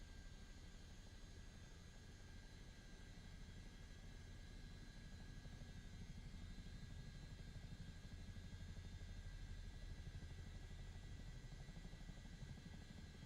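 Chinook helicopter in Microsoft Flight Simulator 2024 produces a steady, dense rotor and engine drone, unbroken and at an even level throughout with no talk.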